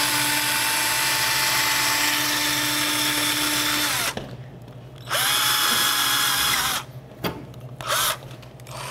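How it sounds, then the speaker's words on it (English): A power drill whines loudly and steadily, stopping and restarting in several short bursts close by, drilling out plastic Christmas-tree trim clips on a soda machine front. "I'm going to drill out the 3 Christmas trees on the front trim"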